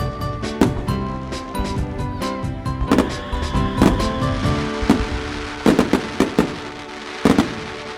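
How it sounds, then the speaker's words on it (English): Fireworks sound effect with a run of sharp cracks and pops, some loud and close, scattered irregularly over a steady crackling background. "Fireworks just went off in my pants."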